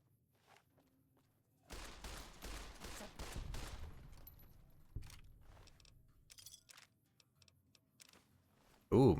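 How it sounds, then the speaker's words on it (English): Quiet bursts of rapid machine gun fire rattle in a Fallout video game, followed by scattered clicks and thuds. "Ooh, machine gun."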